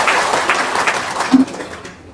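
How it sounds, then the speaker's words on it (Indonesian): An audience at a talk claps together in a brief burst of applause, fairly loud and close, with voices mixed in, before it thins out toward the end. "Tepuk tangan, Pak."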